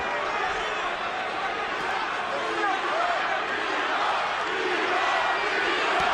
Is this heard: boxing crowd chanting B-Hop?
yes